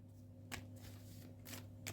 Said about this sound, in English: As we shuffle these cards up, we move them around a little bit, left, right and center.